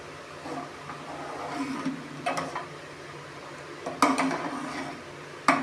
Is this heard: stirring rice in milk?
yes